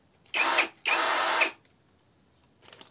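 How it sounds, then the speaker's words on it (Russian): A 24-volt cordless screwdriver whirs in two short bursts, the second a little longer, loud and close with a high motor whine, then stops into near silence. "Этот шуруповерт работает также от батарейки 24 вольта."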